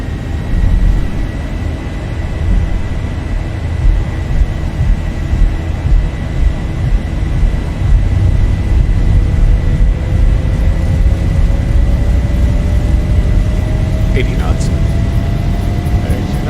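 Airliner engines in X-Plane 11 build to takeoff thrust during a flight from Learmonth to Perth, Australia: a loud, continuous roar with a rising whine that climbs steadily, with a couple of brief chimes near the end.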